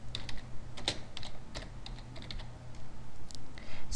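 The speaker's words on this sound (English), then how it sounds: "type a new field name" Fingers typing a new field name on a computer keyboard, with quick irregular clicky keystrokes heard close and fairly soft over a low background hum.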